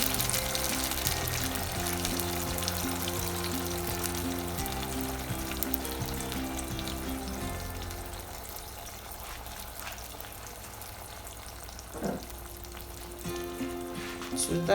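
A pepper, onion and ginger mix sizzles loudly in a pot for Nigerian gbegiri beans soup, a dense steady frying hiss that softens about halfway through, with a brief clink near the end and no talking.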